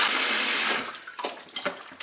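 Water streams from a tap into a bowl to rinse a French press, a steady hiss of running water that stops after under a second, followed by brief splashes and sloshes.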